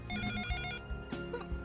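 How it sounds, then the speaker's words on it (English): An old Nokia phone ringtone plays in a visual novel game, a bright electronic melody of quick repeated tones lasting under two seconds, loud and alone. "I think this specific ringtone is from one of the older Nokia phone models"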